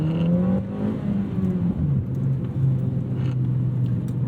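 A 2009 Honda Fit's small four-cylinder engine revs up past its VTEC crossover point, heard from inside the car as a continuous loud droning hum whose pitch climbs and steps through several gear-like rises.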